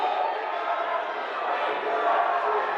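Crowd noise at a women's college basketball game, a CSAC semifinal against Notre Dame MD, swelling steadily as fans come alive late in the half; a dense, continuous roar without breaks.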